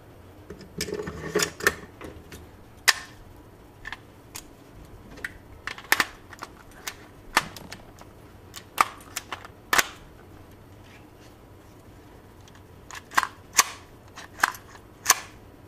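A WE M4/M16 gas blowback airsoft rifle fitted with RA Tech parts fires a series of sharp, isolated cracking shots with mechanical clacks, spaced irregularly with quiet gaps between them, close to the microphone.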